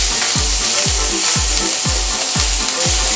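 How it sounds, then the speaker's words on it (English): Shrimp sizzling in a tablespoon of butter in a pan, a steady close frying hiss broken by a low, regular thump about every half second, with no talking. "And then I'm gonna add my shrimp."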